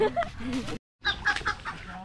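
A small group of ducks on a rural Philippine farm give close, nasal quacks and clucking calls in quick bursts, with a brief gap of silence partway through.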